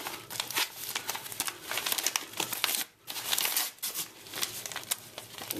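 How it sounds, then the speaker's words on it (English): Crinkling and tearing of a heavily taped eBay package being opened, a dense, continuous rustle of plastic and tape close by with a brief pause midway and no talking. "I also received a couple things from eBay, but just never bothered to open it, so we'll go ahead and open it now."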